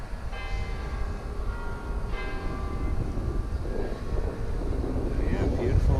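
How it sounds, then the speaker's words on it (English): Church bells ring at noon in Zurich, a distant tolling over wind buffeting the microphone and low rumbling city noise, with a voice talking at times. "it's noon, so the bells are going off at noon"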